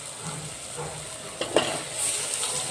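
Eggplant pieces dropped into a pan of half-cooked frying masala, a close, steady sizzle that swells briefly as they go in, with a light clink of a spoon.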